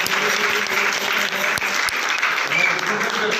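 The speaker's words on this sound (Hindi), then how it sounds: "हाँ एक बार फिर जोर से ताली खुदा के साथ" Loud, sustained applause from an audience at a Sunday meeting, steady clapping filling the whole stretch with a voice briefly over it.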